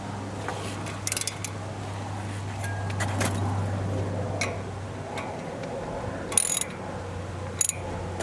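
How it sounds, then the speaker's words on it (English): A socket ratchet turning bolts on a Toyota brake rotor: scattered bursts of rapid clicking pawl ticks over a steady low hum, close and fairly quiet. "And now we'll use this socket. Do them one by one on each side."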